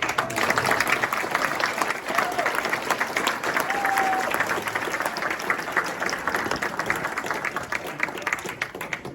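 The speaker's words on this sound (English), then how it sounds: "How about a round of applause for" A banquet audience breaks into applause, dense continuous clapping at moderate loudness lasting the whole stretch with a faint murmur of voices beneath.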